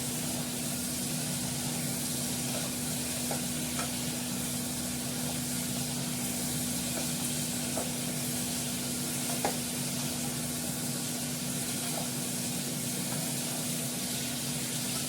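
Meat sizzles steadily in a pot while a utensil stirs and scrapes it now and then, a constant frying hiss with a low hum underneath.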